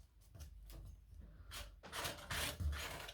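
Gesso being scraped across a page, close, soft rasping strokes in short bursts, growing louder toward the end.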